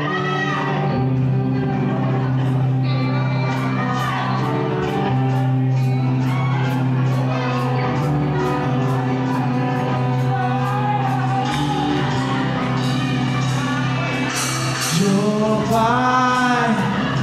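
Live audience at an OPM band set in a Manila gastrolounge, loud crowd shouting and cheering over a sustained band tone, with rhythmic claps and rising whoops toward the end.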